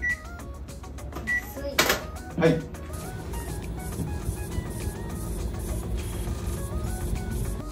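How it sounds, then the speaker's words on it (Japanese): A washing machine starts a one-minute spin to dry golf shoes: several electronic beeps, then a steady whirring hum that builds and holds, with a brief spoken word near the start. "洗濯機の遠心力で汚れをバンと飛ばすんですけど、はい、1分だけ脱水します"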